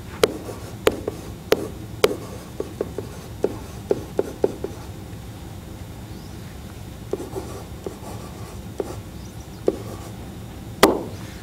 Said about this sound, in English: So I'm going to write that back down.